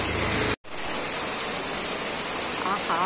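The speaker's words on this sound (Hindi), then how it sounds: "एकदम बारिश झमाझम हो रही है" Heavy monsoon rain pours down steadily, a dense close hiss that fills the whole clip and breaks only for a brief cut near the start.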